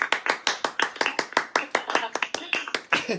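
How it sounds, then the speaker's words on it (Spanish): Audience clapping during a live event, a steady run of about twenty sharp claps over a few seconds, fairly close and clear, with no voices over it. "Ahí está Adriana Lomba, un aplauso para ella, por favor, hoy que somos muchos, un aplauso"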